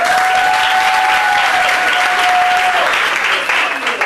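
A crowd gives loud, dense applause that carries steadily for several seconds and tapers slightly at the end, with a thin whistle-like tone heard over it.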